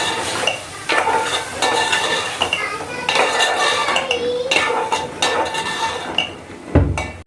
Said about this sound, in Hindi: और अब हम इस मसाले को भूनेंगे।